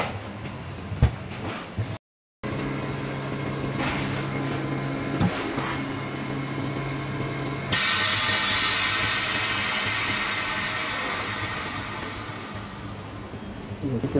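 A vacuum sealer drawing air out of a bag holding cut sushi-grade tuna, a continuous motor whir with a brief cut-off, then a louder, brighter pumping hum that runs on steadily.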